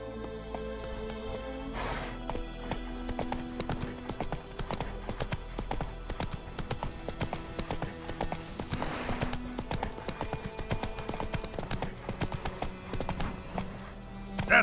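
Roach the horse trotting in The Witcher 3, a steady rhythmic clip-clop of hooves running throughout under game music and ambience, with a snort or whinny partway through.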